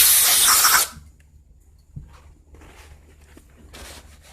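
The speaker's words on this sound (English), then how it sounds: "I'm going to spray that intake mount right here and clean it off with some Napa carbon choke cleaner" A loud hissing burst of carburetor choke cleaner sprayed onto a string trimmer's intake mount, lasting under a second, followed by quiet shuffling and faint clatter.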